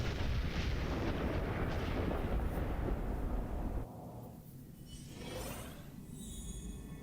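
Implosion attack detonating in the Honkai Star Rail video game: a loud, dense rumbling blast fills the first four seconds, then drops to a quieter lingering roar with shimmering high-pitched tones.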